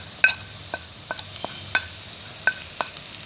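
Browned onions and spices for Lahori cholay sit in a pan under a soft steady sizzle, while a metal spoon strikes and scrapes the pot in sharp, irregular clinks, about seven in a few seconds.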